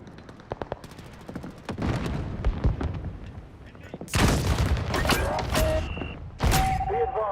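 Modern Warfare multiplayer fight with bursts of automatic gunfire and sharp shots, then a heavy, loud blast from a grenade explosion, followed by more firing and brief in-game radio voices.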